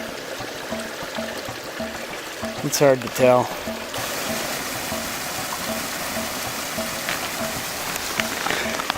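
Snowmelt creek water flowing steadily in a broad continuous rush, with someone speaking briefly over it.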